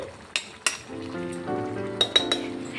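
Prawns frying with tomatoes in a pan give a close, bright sizzle, broken by a few sharp utensil clinks against the pan, with no talking.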